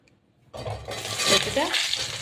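Prawn and lati (taro stolon) hit hot oil tempered with cumin, bay leaf and dried chilli; after a short quiet pause a sudden loud, steady sizzle and crackle of frying fills the rest of the moment.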